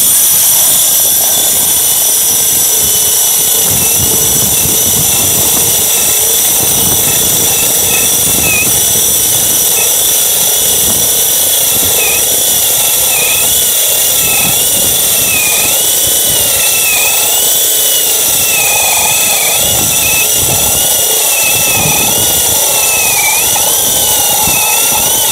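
A Hukan battery-powered core drill bores 60 mm holes, grinding loudly and continuously with a harsh, steady whine that wavers in pitch as the bit cuts, close and dominant throughout.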